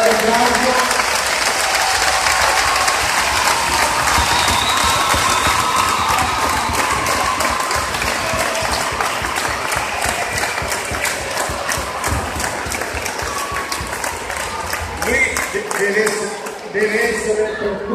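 A crowd at a judo exhibition breaks into loud, continuous applause with cheers and shouts, the clapping steady and close for most of the span before tapering off near the end, with a voice occasionally audible over it.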